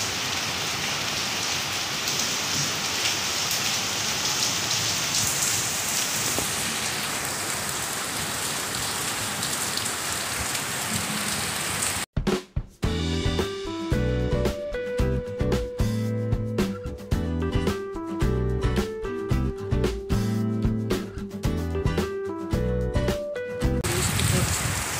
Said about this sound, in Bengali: আর তার সঙ্গে বৃষ্টিও শুরু হয়েছে মুষলধারে।